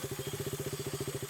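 A motorcycle engine runs with a fast, even, throbbing pulse, a low thumping rhythm at close range, fairly faint and steady throughout the short burst.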